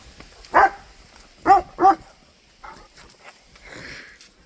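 Dogs play with a stick outdoors, giving three short, sharp barks near the start, followed by fainter growly yips and a softer whine.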